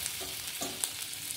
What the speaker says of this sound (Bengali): তেলের মধ্যে আদাটা দিয়ে দেবো।